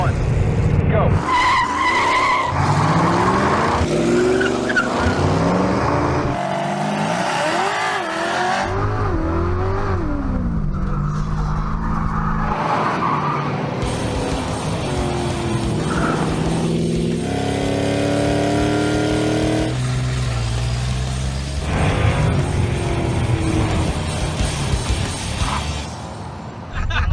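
Drag race cars launching and accelerating down a strip: loud engines rev and climb through rising whines, with tire noise and repeated surges of power, voices talking over parts of the roar.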